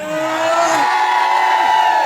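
An audience at a family fete cheers and whoops loudly to welcome a folk dance troupe, a dense burst of crowd noise with high shouts rising over it.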